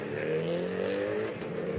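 Renault Clio Cup race cars accelerate together at a safety car restart, a steady, fairly loud buzzing engine drone rising as the pack pulls away.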